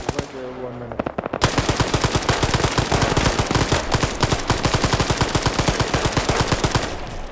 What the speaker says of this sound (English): Puma has an RPK